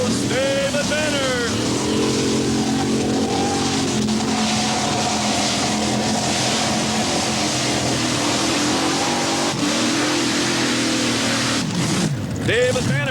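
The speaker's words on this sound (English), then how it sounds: "cranking up those big Chevy big blocks, and he is ready to go" Modified pulling tractor with big-block Chevy engines launching at a 1989 NTPA tractor pull in Hildreth, Nebraska: a loud, sustained engine roar with rising revs near the start and a surge again later, under a commentator's voice.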